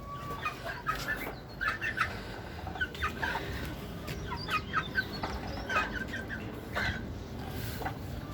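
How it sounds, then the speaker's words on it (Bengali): Chickens cluck repeatedly while feeding at a farm, short bright calls scattered through a steady bed of scratching and background noise, fairly near and moderately loud. "মুরগিরা খাওয়া দাওয়া প্রায় শেষ"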